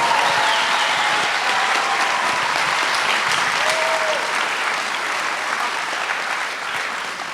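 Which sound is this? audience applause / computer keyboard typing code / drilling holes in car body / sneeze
audience applause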